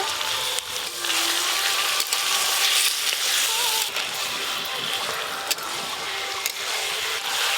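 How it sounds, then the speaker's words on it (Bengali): Chicken sears in hot oil with ginger, garlic and onion, giving a loud, dense, continuous sizzle close by, with occasional sharp scrapes of a spatula against the pan. "আদা রসুন আর পেঁয়াজের সঙ্গে মাংস বেশ ভালো করে একটু কষে কষে নেব"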